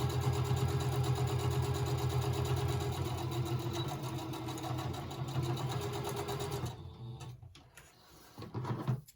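A sewing machine runs a steady straight stitch while finishing ephemera craft pieces, a continuous close mechanical hum with a rapid rhythmic needle clatter that stops near the end, leaving a few short rattles and handling clicks.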